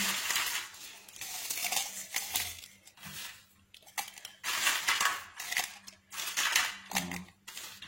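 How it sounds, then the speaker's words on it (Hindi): An electric mixer grinder whirs in bursts as ingredients are ground in its jar, the harsh rattling grind starting and stopping in several pulses with short quiet gaps between. "इसमें जार में डालते हैं और इनको पीस लेते हैं।"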